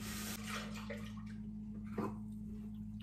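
Water runs steadily while a container from making a blended drink is rinsed out, a close, constant splashing flow with a low hum underneath and no talk.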